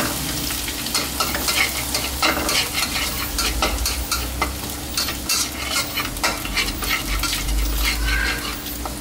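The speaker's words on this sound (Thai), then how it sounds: "ใส่น้ำมันลงไปนะครับเดี๋ยวเราเอากระเทียมมาเจียวก่อนนะฮะ" Garlic fries in oil in a pan as filling is prepared for fried spring rolls, giving a loud, continuous sizzle with steady stirring scrapes close by.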